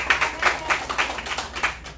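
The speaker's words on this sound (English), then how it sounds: "Let's give her a round of applause." A small gathering at a Satyanarayan puja and satsang claps for the woman who prepared the offerings, producing a short burst of scattered hand claps at moderate volume, with no talking.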